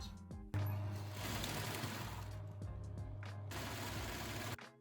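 A sewing machine runs steadily, stitching the long edge of a fabric wrap top with a sustained motor hum, briefly slowing near the midpoint and stopping just before the end.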